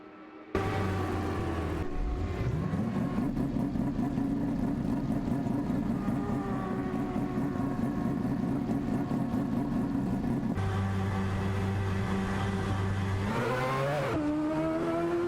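AI-driven race cars in a racing video game, engines droning and revving steadily with pitch shifts as cars pass and accelerate, loud and continuous with no talk.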